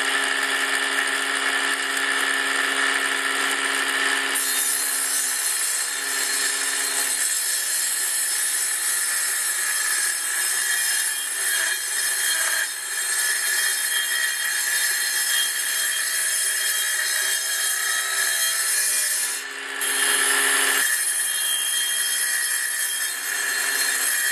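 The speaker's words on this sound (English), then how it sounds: "we'll get this set up on the saw here in a few minutes and cut her off" A saw rips through a piece of scrap wood for building a small wooden trunk, a loud continuous whining cut with steady grinding texture, briefly easing near the end before resuming.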